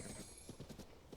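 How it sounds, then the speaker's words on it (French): Hooves of a horse in the video game Zelda: Tears of the Kingdom clop in a quick, faint rhythm, heard alone over a soft steady background. "qu'est-ce qu'il est adorable mon petit cheval"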